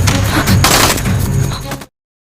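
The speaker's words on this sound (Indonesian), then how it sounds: "seketika terjadilah kontak senjata di antara mereka" Gunfire erupts in an Indian action film shootout between police and a gang, a dense, loud burst of rapid shots and blasts that cuts off abruptly into silence.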